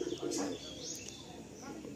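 Madrasi pigeons with jack colouring coo in low soft bursts near the start, followed by a quieter stretch with faint chirps and light rustling.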